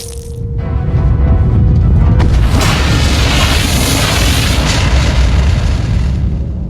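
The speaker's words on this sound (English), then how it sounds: "We need a much bigger explosion." A loud cartoon explosion from an animated series booms after a brief quiet moment, then a long roaring blast and rumbling debris fill the rest of the clip.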